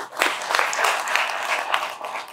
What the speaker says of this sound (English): Please, let's give them a round of applause for that.